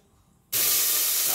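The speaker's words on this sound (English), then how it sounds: "And now I put my olive oil." Olive oil poured into a hot pot on the stove bursts into a loud, steady sizzle after a half-second of near quiet, then holds a bright, close hiss to the end.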